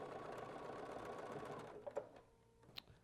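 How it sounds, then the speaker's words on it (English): A sewing machine stitches a row of a scrap quilt, running in a fast, even, close-up whir for about two seconds before stopping, followed by a few faint clicks. "finish sewing that row"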